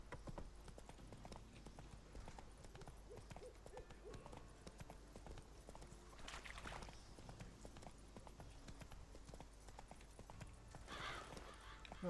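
Horse Roach gallops with rhythmic hoofbeats in The Witcher 3, steady and moderately near under a continuous game soundscape with occasional louder bursts.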